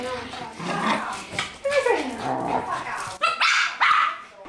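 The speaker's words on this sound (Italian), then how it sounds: "Stanno incazzati sti cani" Several dogs bark and yip agitatedly, with whimpering tones mixed in, fairly close and continuous, while people talk over them.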